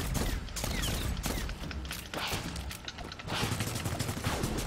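Pistol fire in the video game Guardians of Orion, with rapid repeated shots and crashing impacts in dense, loud in-game combat noise.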